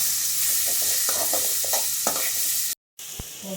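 Onions sizzle steadily in a hot pan while a utensil scrapes and stirs a few times; a brief dropout of silence, then the frying continues.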